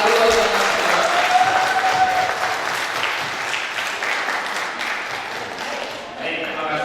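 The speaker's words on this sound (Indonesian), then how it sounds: "Beri tepuk tangan dulu buat Mas." Audience applause at an indoor digital marketing seminar, a dense, sustained round of clapping running for about seven seconds, with a voice speaking under it.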